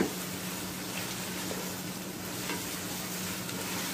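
Onions frying in a hot kadai on high flame for chicken and potato curry, a soft continuous sizzle with faint scraping of stirring, fairly quiet and close, with no talking.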